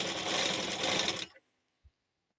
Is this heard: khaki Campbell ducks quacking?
no